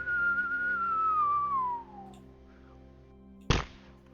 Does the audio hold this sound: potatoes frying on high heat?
no